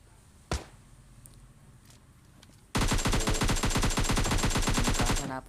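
Rapid automatic gunfire from a bot in PUBG Mobile Lite, one short shot near the start, then a loud continuous burst of rounds for the last few seconds.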